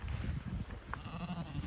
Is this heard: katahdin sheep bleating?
yes